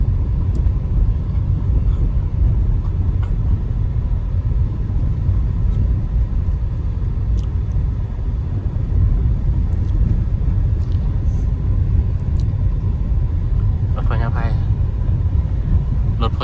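Chinese, Thai and Vietnamese trucks drive along southern Route 13 in Laos in a loud, continuous low rumble of heavy engines and tyres, with someone talking over the traffic.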